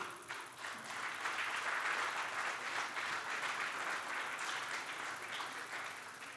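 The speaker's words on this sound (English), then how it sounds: "I think that deserves a round of applause." A crowd at an opening ceremony claps steadily for about six seconds, a dense, even patter of many hands that never builds or fades sharply, with no voices standing out.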